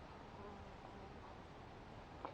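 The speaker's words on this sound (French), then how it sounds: "Et d'ailleurs, les abeilles sont dessus" Bees buzzing around a flowering laurel in a school garden, a faint, steady, continuous hum close by with no talk.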